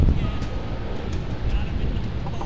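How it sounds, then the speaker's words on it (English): Outdoor wind buffets a microphone, giving a steady low rumbling roar with no pauses across the whole stretch. "Oh, the wind's gonna mess me all up now."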